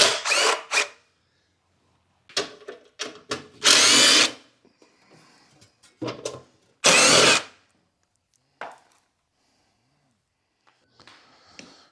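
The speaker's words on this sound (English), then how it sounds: "Now we can start removing the bolts that are holding the cover on there." Loud bursts from a power drill backing out the bolts on the cover of a Miller Onan 225NT welder, several short whirs and two longer ones with clicks and quiet gaps between.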